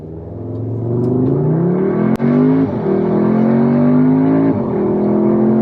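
A 2022 Audi S3 in dynamic mode with stability control off launches hard, its engine note climbing steadily with brief dips at quick shifts of the 7-speed dual-clutch gearbox, loud and close inside the cabin.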